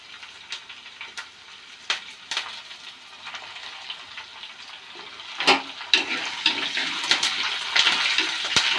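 Green chillies and curry leaves frying in hot oil for a Kerala-style fish curry, a crackling sizzle with sharp pops that grows busier and louder toward the end.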